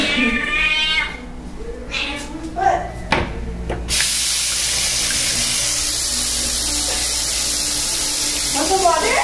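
Water gushes steadily from a tap as broadband noise after a few seconds, following some meowing and brief sounds; a cat meows faintly near the end.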